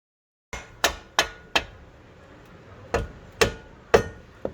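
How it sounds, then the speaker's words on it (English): About eight sharp, ringing hammer taps strike a rear suspension part on a 1984 C4 Corvette, coming in uneven bursts with short pauses between them, close and loud with no talking. "A couple of taps to get it to go up"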